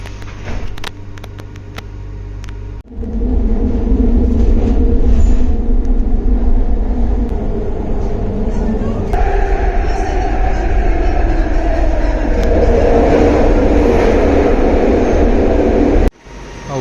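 A metro train ride in Kuala Lumpur, Malaysia, toward Wangsa Maju station, a loud steady rumble and hum of the carriage in motion, rising in pitch and intensity as it travels, with a sharp drop near the end.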